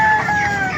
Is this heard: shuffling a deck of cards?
no